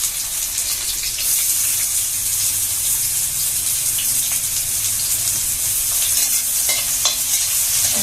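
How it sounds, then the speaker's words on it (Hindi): Cumin seeds and finely chopped onion fry in hot oil, a loud, close, steady sizzle with occasional stirring scrapes throughout. "अब तेल गरम हो जाए तो इसमें जीरा डाल दीजिए और प्याज कटा हुआ, बारीक कटा हुआ प्याज डाल दीजिए"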